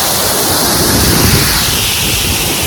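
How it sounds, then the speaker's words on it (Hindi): Wind gusts past a small waterfall in Canada. The rush of wind and falling water blends into a loud, steady, broadband roar with no pauses and no voices. "बहुत अच्छी हवा चल रही है और साथ में ये छोटा सा मिनी नाइग्रा फॉल"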